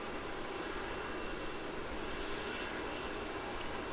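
Airliner rolling off runway 16 after a six-hour flight from Jakarta, heard as a steady, broad engine roar that holds constant throughout, fairly loud and without any talk.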